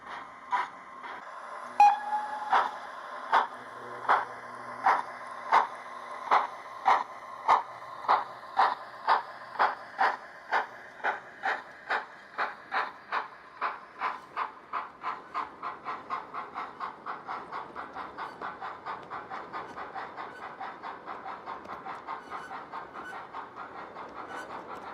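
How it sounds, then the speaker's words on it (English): A model LMS Patriot locomotive, 460 Giggleswick, pulls away with a passenger train on a model railway, its rhythmic beats starting slow and spaced, then quickening steadily into a fast, even chatter over a soft running hum. "An LMS-lined Black Patriot 460 Giggleswick with another lake-liveried passenger train briefly held at the platform start."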